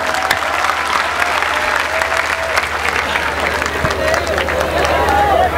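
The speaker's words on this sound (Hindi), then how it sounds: "जोरदार तालियों से इस्तकबाल कीजिए" Loud, dense applause from a large crowd at an outdoor protest rally against CAA, NPR and NRC in Cheeta Camp, Trombay, welcoming a speaker. Steady, continuous clapping with crowd murmur runs throughout.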